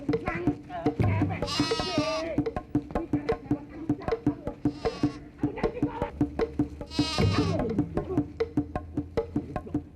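A goat bleats loudly a few times amid a busy comedic chase scene. People shout and talk throughout, with frequent clattering and a buzzing noise underneath.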